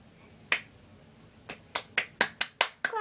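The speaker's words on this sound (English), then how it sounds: "Clapping for myself." One person clapping alone indoors: a single clap, a pause, then six quick, fairly even claps in a row, crisp and close with no other sound.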